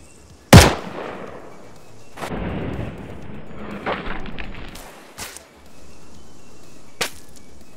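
Sniper rifle shots in the military shooter ArmA 3 with ACE 3 ballistics, a sharp loud crack at the start followed by a rolling echo, then another distant-sounding crack later.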